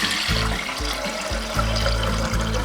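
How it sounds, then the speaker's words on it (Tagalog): Water pours steadily into a container while preparing sikwate, a hot chocolate made from tableya; a continuous, close, rushing splash over a low tonal hum. "Inti pa na sudlan na tubig."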